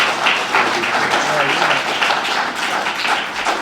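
Audience applause breaks out at a small-town candidates forum for a vacant selectboard seat, a sustained wash of clapping with a voice talking over it.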